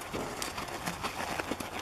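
Horse hooves clip-clopping on the ground during a horseback riding lesson, a steady, fairly close patter of soft repeated thuds over a low, even background.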